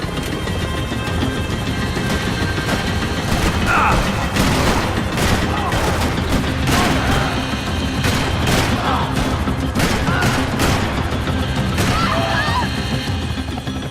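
Rapid rifle gunfire in Max Payne 3 cracks out in loud, closely spaced bursts with sharp smashing impacts, over a constant rumbling backdrop for most of the stretch.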